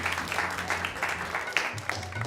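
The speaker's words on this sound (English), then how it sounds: "let's give him a big round of applause" Modest applause from a temple audience at an ISKCON Rama Navami evening gathering, a fairly thin patter of clapping with scattered louder claps and a low voice or hum underneath.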